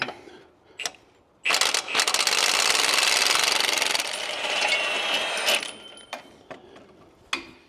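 An impact wrench hammers at a flag nut on the suspension link of a big block Jeep, with a few short bursts before a long, loud rattling run, then brief clanks and taps as the tool is set down.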